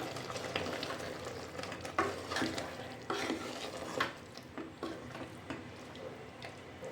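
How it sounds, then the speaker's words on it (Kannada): A spoon scrapes and knocks around a pot of Mandya-style chicken curry masala in repeated uneven strokes, close by, over a soft sizzling background. "ಇದನ್ನು ಹಾಕಿ ಚೆನ್ನಾಗಿ ಮಿಕ್ಸ್ ಮಾಡೋಣ"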